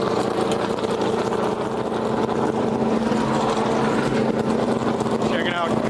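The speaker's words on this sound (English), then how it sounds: "listen to that sound. That engine revving up" Kurt Busch's Monster Energy Ford NASCAR stock car engine running in the garage at Texas: a loud, continuous, rough engine drone with steady low rumble filling the whole stretch, and no talk over it.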